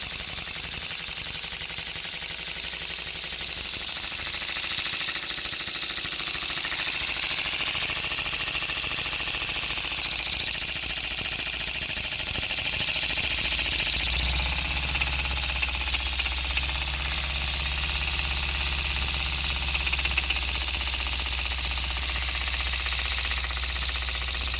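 A small model open-column steam engine running on compressed air, with a cam-tappet valve, runs steadily with a continuous mechanical chuffing and hiss, close and fairly loud, its tone shifting slightly midway; no voices.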